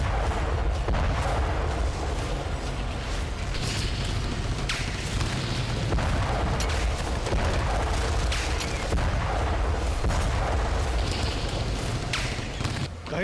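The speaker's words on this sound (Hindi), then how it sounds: "कहीं इजराइल के टैंक हमास के ठिकानों को तबाह कर रहे हैं" Israeli tanks fire on Hamas positions in Gaza, heard as a string of heavy booms and blasts at irregular intervals over a constant rumbling background.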